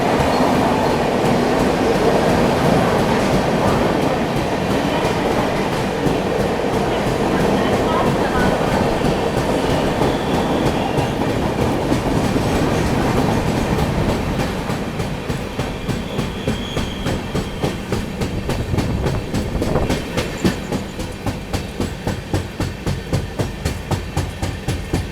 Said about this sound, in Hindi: अभी अपनी ट्रेन स्टार्ट कर रही है दीवा जंक्शन, बगल से क्रॉस हो रही है Haridwar LTT Mumbai AC express